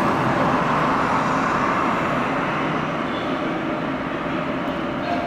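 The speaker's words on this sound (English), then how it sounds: "the sound of cars crossing the entire space of the exhibition" Recorded sound of cars crossing a large art exhibition space, a continuous broadband traffic rumble and whoosh filling the room at steady loudness, with no voices.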